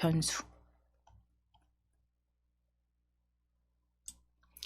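Computer mouse clicks while working in block-coding software, a few faint, isolated clicks spread across a quiet stretch between snatches of speech.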